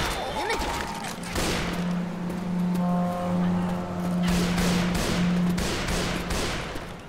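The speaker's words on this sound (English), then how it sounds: "Grabbing some frag rounds. Deploying explosive round." A railgun fires explosive rounds in Left 4 Dead 2, with booming blasts and crackling bursts layered over loud game noise, tonal hums and sustained rumble throughout.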